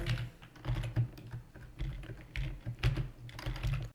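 Rapid typing on a computer keyboard while entering database values, with steady, close, uneven bursts of key clicks and short pauses between them.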